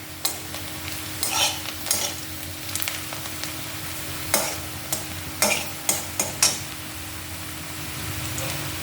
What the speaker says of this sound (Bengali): দেখো কীরকম পর্যন্ত ভাজবে সেটা